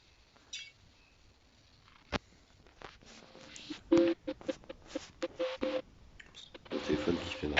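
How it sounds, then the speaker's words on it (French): A telephone gives off erratic signal noises: scattered beeps and short tonal bursts, irregular and fairly close, with brief clicks and some quiet talk around them. "Le téléphone qui fait n'importe quoi,"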